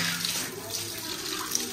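Water from a shower pours onto a floor as it is washed down. The rush is a steady, close hiss that runs unbroken throughout, with no talking.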